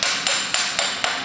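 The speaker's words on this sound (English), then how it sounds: "I have an 1 5/8 socket I just had lying around. It's a nice installation tool. You can put that on and just start tapping it on." A timing gear is tapped onto a Ford 302 small-block crankshaft with a hammer and a 1 5/8 socket, giving five sharp metallic taps at an even rhythm, close and loud, with no talking.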